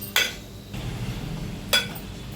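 Tomato rice being stirred in a metal pan gives two sharp clinks of a spoon against the pan, quiet and close, with a soft scraping in between.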